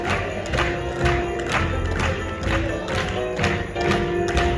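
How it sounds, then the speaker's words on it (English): A crowd claps in a steady rhythmic beat during the final seconds of a timed cooking competition in the Coachella Valley, with cheering and shouts mixed in, lively and fairly close. "They're clapping for you."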